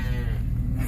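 A brief, low moo from cattle during a Colorado cattle drive, close by and steady for under a second, with no talk.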